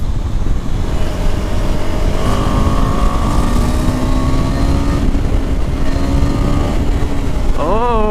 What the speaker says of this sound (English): Let me see what's the top speed in second gear.